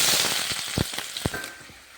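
Onion hits hot oil for a Kannada-style tempering, crackling and sizzling loudly up close with a couple of sharp pops before the sizzle eases.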